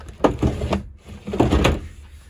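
A few sliding, rumbling drawer movements with soft knocks, close by, in two bursts separated by a brief pause, inside a renovated 1986 Toyota Dolphin camper.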